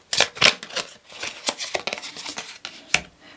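A deck of tarot cards is shuffled by hand during a reading: a series of crisp, papery riffles and snaps at uneven intervals, close and moderately loud, with no talking.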